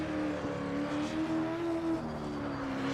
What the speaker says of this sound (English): Love the sound of these cars.